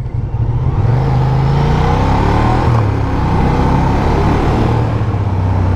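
A 2018 Ducati Diavel Carbon motorcycle engine pulls hard under acceleration, a loud, continuous close-up roar whose pitch climbs, dips briefly at a shift, and rises again, with no talking over it.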